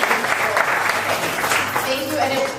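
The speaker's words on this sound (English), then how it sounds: "But a round of applause for our..." A room of staff at a professional development session applauds, steady clapping throughout with talk and murmuring over it.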